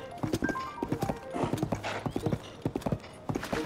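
Horse hooves gallop in Legend of Zelda: Tears of the Kingdom, a quick steady clip-clop rhythm that stays close and loud throughout, with a brief whinny-like tone mixed in.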